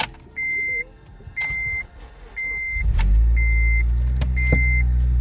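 An 8th gen Honda Civic Si being started for a test drive after a clutch master cylinder job, with a repeating electronic chime, then the engine catching and settling into a steady low idle rumble.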